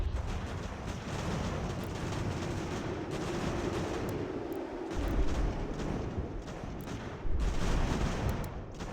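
A chaotic American Revolution battle in Ultimate General: American Revolution, with steady, dense musket volleys and booming artillery crackling and rumbling together throughout, growing heavier near the end.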